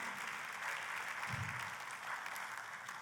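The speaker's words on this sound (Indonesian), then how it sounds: "boleh kasih tepuk tangan" A church congregation applauding during a Christmas service, a faint even patter of many hands clapping at a distance, with a brief low murmur partway through.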